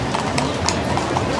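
Horse hooves clip-clop in a quick, steady rhythm on a hard surface, close and clear, at a festival parade of horses in Arandas.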